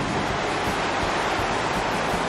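Steady surf washing onto the shore at Pantai Padang, West Sumatra, a continuous loud broadband roar of waves mixed with wind, with no voices.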